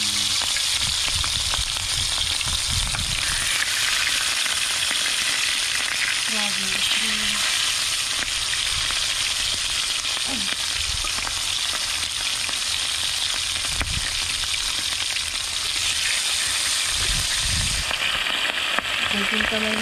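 Wild dove meat sizzles and crackles continuously in hot oil, close and steady, with occasional stirring and a faint voice now and then.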